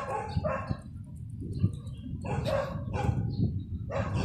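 Short dogs on a street in Baguio City, Philippines, giving several sharp barks in irregular bursts, fairly close, with quieter gaps between them.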